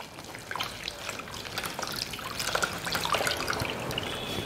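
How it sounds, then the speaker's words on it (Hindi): A wet towel gently squeezed by hand, water trickling and dribbling out steadily for several seconds, close and moderately quiet with no talking. "इसको हमें बहुत ज़्यादा कस के नहीं निचोड़ना है, थोड़े हल्के हाथ से निचोड़ना है"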